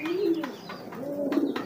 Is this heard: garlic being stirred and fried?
no